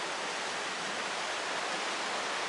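Lotrișor Waterfall in Romania, a steady broadband rush of flowing water, constant and fairly near, with no pauses or other sounds over it.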